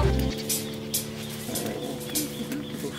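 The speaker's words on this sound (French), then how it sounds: "Je vais écouter les oiseaux." Soft cooing birds call a few times over a quiet outdoor background, moderately near, with no talking.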